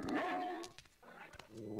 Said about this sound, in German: Er bellt die Wand an.